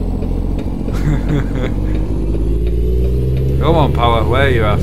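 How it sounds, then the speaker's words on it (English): A truck engine idles and hums steadily in American Truck Simulator, a low continuous drone with a slight rise in revs, while someone talks over it. "it doesn't sound as good as the old engine, does it?"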